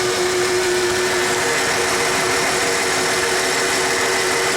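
A 1994 Ford F150 engine runs steadily during a cylinder drop test, with a constant droning hum and a whine over it. The truck is rough-running and had a fouled spark plug. The engine is close and loud, with no talk.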